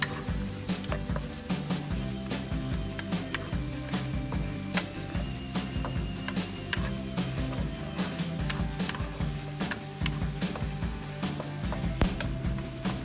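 Pork and potatoes are stir-fried in a pan with teriyaki sauce, a dense, close clatter of spatula strokes and low sizzling running steadily throughout with no talk.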